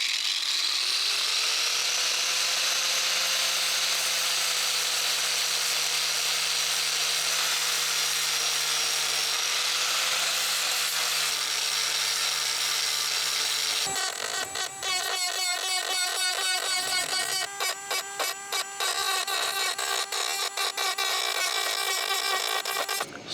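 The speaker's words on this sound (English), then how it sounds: "fill it with epoxy, and then drill the appropriate sized hole" A power drill bores a fitting hole into a catamaran hull, running as a long, steady high whine, then shifting abruptly into a harsh, chattering grind as the bit bites, loud and close with no talking.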